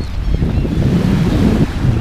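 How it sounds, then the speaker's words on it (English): Ocean surf washes up a beach and breaches the walls of a sandcastle, a steady roaring wash of water mixed with wind buffeting the microphone, loud and close, with no talking. "the walls are getting breached by the ocean here"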